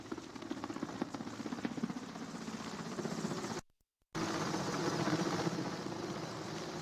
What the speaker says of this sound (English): helicopter flying by